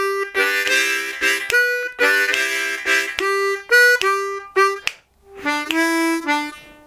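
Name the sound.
harmonica first lick over the one chord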